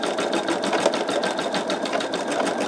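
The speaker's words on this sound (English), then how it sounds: "I will go ahead and pause and let it continue stitching" An embroidery machine works through a design with a fast, even needle rhythm, a continuous close whirring chatter heard alone without pause.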